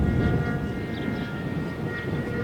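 RC model airplane engine droning steadily as the plane flies in to land on a runway in windy weather, a continuous loud buzz with wind noise mixed in.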